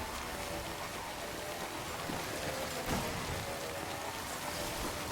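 Steady rain of the timefall weather in the video game Death Stranding, a dense continuous hiss of drops falling on surfaces around a damaged trike, constant and fairly even throughout with no voices.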